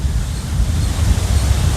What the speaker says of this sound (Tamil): நல்லா காற்றடிக்குதுங்க